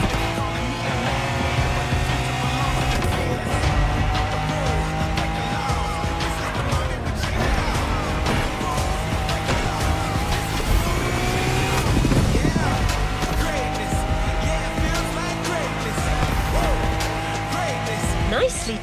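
A Lamborghini races in The Crew Motorfest driving game, its engine droning loud and steady with shifting pitch, brief tire squeals and skids, under a busy mix of game sound.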